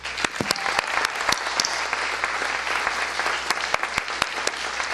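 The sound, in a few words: audience applause at faculty meeting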